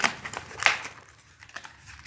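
Packaging of an Everest wireless mouse and keyboard set being opened, with close crinkling and crackling of plastic and cardboard in short bursts, louder at first and then quieter.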